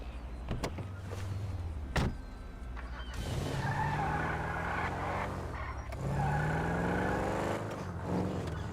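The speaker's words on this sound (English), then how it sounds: "I'm gonna drive to another location where I think they will be at." Car driven in the game GTA 5, engine droning steadily with rising and falling pitch and tires skidding and squealing in several long bursts, close and loud with no talk.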